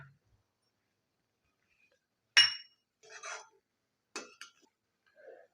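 A spoon adding salt to a pot of dum aloo: a single bright clink against the vessel, then a few soft scraping and tapping sounds, close and quiet with silence between.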